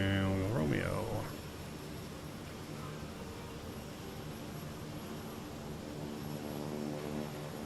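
Kodiak 100 single-engine propeller plane taxiing in a flight simulator: a steady droning engine with a low harmonic buzz, preceded by a brief rising whine at the start, holding evenly throughout.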